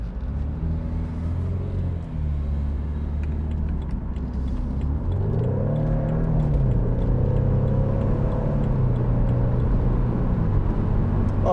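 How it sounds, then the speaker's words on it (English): A 2014 BMW Z4 sDrive28i M Sport 2.0 engine idles and revs with a deep, throaty rumble, rising in pitch midway and holding steady, close and loud. "The sound of that engine is just phenomenal"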